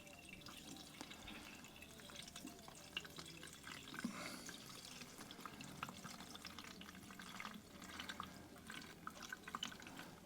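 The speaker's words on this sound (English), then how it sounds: "Put your fuel back into the machine." Petrol fuel mix is poured from a container into the fuel tank of a Mountfield strimmer, making a faint, steady trickling and gurgling with small splashes throughout.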